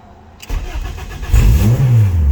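A Honda Civic engine cranks and fires up after sitting unused for a while, a loud, close starter whir that catches and rises into a revving engine, with no talking.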